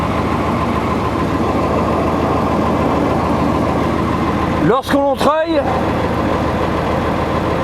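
A M35 A1 Deuce 6x6 army truck idles with a steady low engine rumble while it winches, someone speaking over it and a brief higher squeal cutting in near the end.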